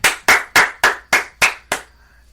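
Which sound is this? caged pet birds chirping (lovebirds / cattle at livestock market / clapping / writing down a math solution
clapping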